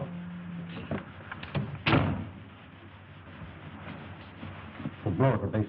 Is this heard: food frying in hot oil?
no